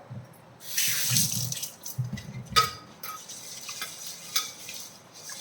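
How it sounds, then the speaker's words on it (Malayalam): Water is sprinkled while an object is scrubbed by hand, producing splashy wet bursts and rubbing scrapes up close, irregular and fairly loud, with no talking. "കുറച്ചുകൂടെ വെള്ളം തളിച്ചോളാം"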